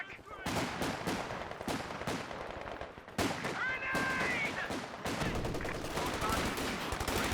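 Machine gun fire from the Company of Heroes 2 strategy game, a 2v2 battle: dense rapid bursts of gunfire with sharp repeated cracks filling most of the stretch, loud and close, mixed with other battle noise.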